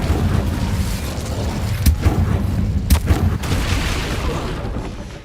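Fire spell explosions in the video game Hogwarts Legacy, two sharp booming blasts about a second apart over a steady dense background of game ambience and music.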